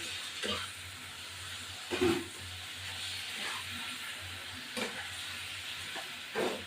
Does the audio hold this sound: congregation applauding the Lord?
no